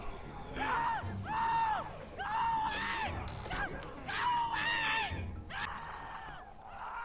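A woman screams in The Walking Dead video game, letting out long, ragged, wavering shrieks in repeated bursts with short breaks between them, loud and close over a low rumble.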